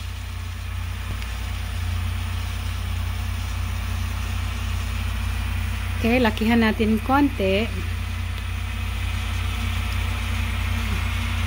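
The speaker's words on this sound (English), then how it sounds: "Ayan yung tractor. Andyan yung tractor." On a farm during hay gathering and baling, a tractor engine runs with a steady, low, continuous drone, and someone speaks briefly over it partway through.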